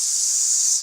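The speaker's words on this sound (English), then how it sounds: "When you take the cap off and you spray that atomizer" A perfume atomizer releases a single low-pressure mist spray, a loud close hiss lasting just under a second before cutting off.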